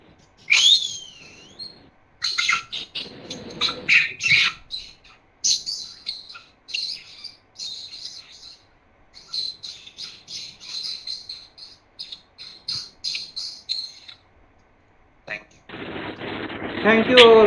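Bird chirps and tweets in quick bursts, bright and close, with some breathy noise toward the end; a voice imitating birdsong at a Teachers' Day celebration.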